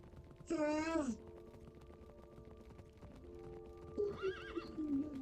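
A Minecraft horse whinnies loudly, then falls quiet before a second, longer neigh, with soft hoofbeats and a steady background hum throughout.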